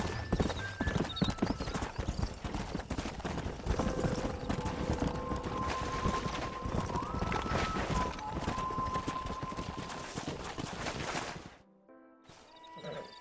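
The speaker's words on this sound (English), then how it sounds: "We got some fine horses." Horses gallop in Red Dead Redemption, the video game, with dense rapid hoofbeats pounding close and loud, a neigh and sustained tones rising over them, before the sound cuts off abruptly near the end.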